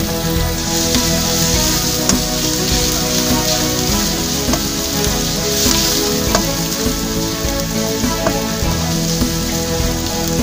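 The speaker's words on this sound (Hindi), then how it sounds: "घी गर्म हो गया, अब हम इसमें डालेंगे प्याज।" Onions sautéing in hot ghee give a loud, steady crackling sizzle with scattered sharp pops throughout, close by and with no talking.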